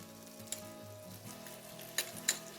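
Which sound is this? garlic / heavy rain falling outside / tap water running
garlic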